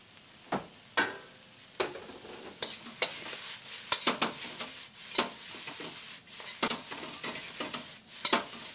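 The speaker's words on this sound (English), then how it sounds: "Vegetables are nicely sauteed." Mixed vegetables sautéing in a pan for a khao soi noodle bowl, with steady close sizzling and frequent clinking stirs of a utensil against the metal.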